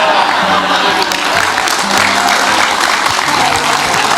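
An audience at an Indonesian Islamic lecture gathering claps. The applause is loud and continuous, with some voices murmuring underneath throughout.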